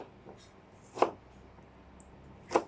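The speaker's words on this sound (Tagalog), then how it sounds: "So, iwain natin yung sibuyas for" An onion being sliced on a cutting board for sautéing, with two distinct knife chops about a second and a half apart and faint quieter taps in between, in an otherwise quiet room.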